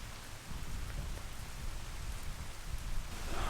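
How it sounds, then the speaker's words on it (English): Incessant rain pours down on the South Downs Way while a walker shelters under a barn, a dense steady hiss of drops pattering on surfaces, loud and unbroken with no voices. "I've come under a barn to shelter from the incessant rain."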